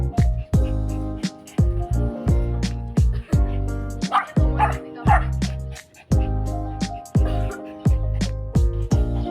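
A dog barks and yips repeatedly at close range in a Filipino home setting, with loud, rapid bursts and whimpering yelps coming in uneven clusters.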